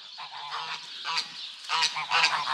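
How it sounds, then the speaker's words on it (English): Geese honking on a farm during a fall tour, a loud close flock calling in repeated overlapping honks that swell and dip over a couple of seconds. "Oh, and the geese are coming too. Come on, geese."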